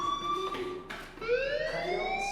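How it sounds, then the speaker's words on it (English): A fire alarm goes off in a school in the video game Life is Strange, a loud electronic tone that shifts in pitch and sweeps upward, repeating through the whole stretch with no speech. "Hey, do you hear that fire alarm?"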